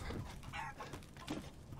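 Faint chicken clucks from the horror game Resident Evil Village, two or three brief calls spaced apart over low ambient game noise, no one speaking.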